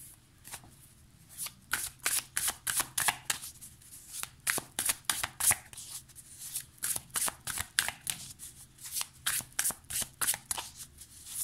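Muse Tarot cards are shuffled by hand in a rapid series of crisp riffling bursts, close and rhythmic, repeating steadily with brief pauses between them.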